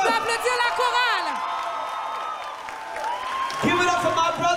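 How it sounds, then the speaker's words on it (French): A gospel concert crowd applauds and whoops for a choir, a continuous bed of clapping and cheering with shrill individual shouts rising over it. "Let's give it up for this amazing choir."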